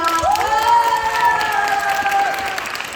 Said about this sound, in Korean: 과정평가랑 시험 준비에 큰 도움을 주신 선생님께도 모두 큰 박수 부탁드립니다.